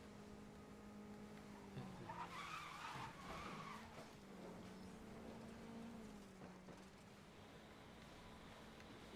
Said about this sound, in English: Listen to those beautiful engines.